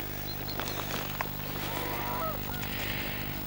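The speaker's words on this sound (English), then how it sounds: "Canada geese like this will nibble at your trousers leg." Canada geese honking in short calls against a steady background rumble, moderately near, with scattered chirps from other birds, beside a reservoir car park.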